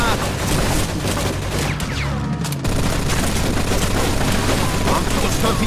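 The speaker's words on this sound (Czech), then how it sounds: "Hoď do toho okna granát!" A grenade blast in the Mafia II video game booms through a dense, continuous stretch of loud gunfire, with the low rumble briefly dropping out midway before the din resumes.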